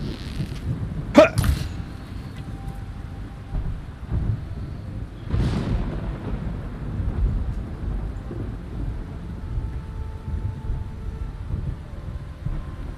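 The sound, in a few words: thunderstorm in video game Horizon Forbidden West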